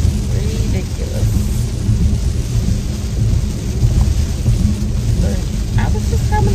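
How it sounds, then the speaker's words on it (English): Heavy rain pours down steadily with deep rolling thunder rumbling throughout, loud and close, a continuous roar of downpour with no clear breaks. "Even though it's pouring down raining, this is ridiculous."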